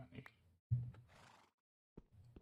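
A horse in Minecraft gives short neighs and whinnies in a few separate bursts with silent gaps, close and fairly quiet, with no talking.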